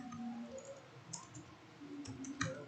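Keys click on a computer keyboard as a command is typed, with soft, sparse, irregular taps close by over a quiet background.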